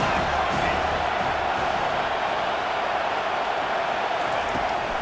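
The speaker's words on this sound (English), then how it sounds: "This crowd trying to make life miserable for this offense." A stadium crowd in the NCAA 25 college football video game roars in a continuous, dense wash of cheering that holds steady throughout.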